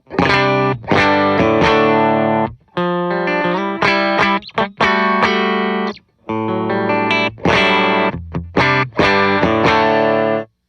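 An electric guitar plays a clean tone through a Tone Era Classic Warm Balance pedalboard with the Tone Press compressor on, ringing chords and notes in phrases separated by short pauses, loud and alone.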